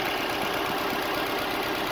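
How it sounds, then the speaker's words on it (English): A boxer engine idles steadily at close range, a continuous low mechanical hum with a bright hiss layered over it and no voices. "it's a boxer engine"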